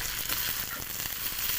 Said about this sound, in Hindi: अब भिंडी को मैंने अच्छे तरीके से मिक्स कर दिया